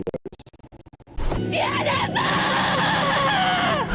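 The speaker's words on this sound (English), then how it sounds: "A lot of screaming, huh?" Shrill, wavering human screaming starts abruptly after a second of rapid clicking and continues loud and sustained, with voices mixed in.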